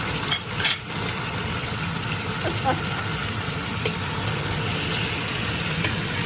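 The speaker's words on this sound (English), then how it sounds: "it's time to throw everything in. And saute everything." Meat and vegetables sautéing in a hot pan, a steady broadband sizzle running throughout with occasional light clatters of stirring near the start, fairly close, with a faint low hum underneath.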